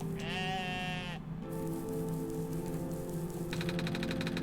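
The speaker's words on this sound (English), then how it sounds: "Ah, there's a sheep." A sheep in the video game OneShot bleats in a long wavering cry, followed by a shorter stuttering bleat, loud and close over a steady game music backdrop with no talking.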